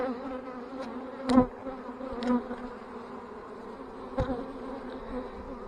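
Honey bees hum around an opened hive during an early spring inspection in West Virginia, a steady close droning buzz with a few louder knocks and passes near the microphone.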